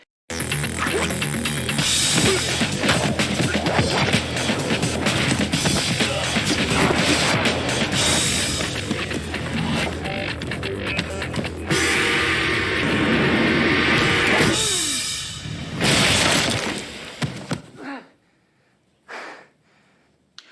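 Heavy cinematic crash and rumble as Neo lands and cracks the ground in The Matrix (1999), a dense roaring impact with layered debris and whooshes that drops away abruptly into near silence, with faint breaths after.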